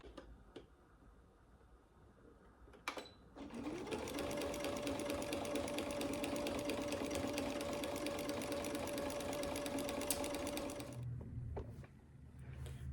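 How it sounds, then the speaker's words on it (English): A sewing machine stitches a hood onto a sweatshirt, running in one steady fast burst for about seven seconds between quiet handling clicks before and after. "I'm gonna slide that underneath my sewing machine and start adding the hood to it"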